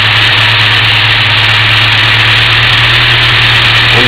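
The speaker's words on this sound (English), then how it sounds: "Unplug it, the idle goes up." A car engine idles steadily with a fuel pressure regulator plugged back in, a loud, continuous low drone with a constant hum and no talking.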